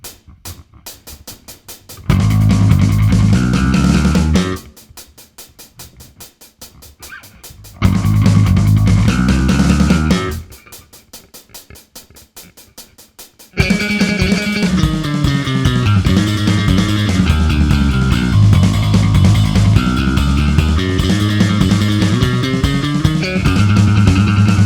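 Electric bass playing the opening riff of a song in a grinding, trebly style at about 146 beats per minute, with fast repeated driving notes in loud bursts separated by quieter stretches, then continuous riffing.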